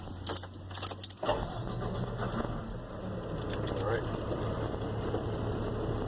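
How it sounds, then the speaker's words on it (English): Keys jangle sharply before a truck's engine starts during a commercial driver pre-trip check and settles into a steady, moderate idle; a voice speaks briefly near the start. "First, we're going to safely start the vehicle."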